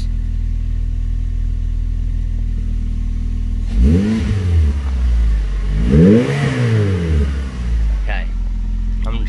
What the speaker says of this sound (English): Okay, I shouldn't really rev it while it's cold, so I'm gonna let it warm up.